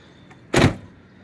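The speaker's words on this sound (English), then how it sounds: "Okay, door shuts." A Ford Mustang door slams shut in one solid, loud thump with a short rattle and decay, close by, with no talking.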